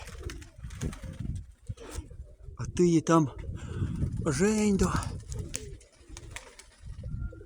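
Pigeons coo in soft, throaty bursts close by, with someone talking over them and other bird chatter in the background.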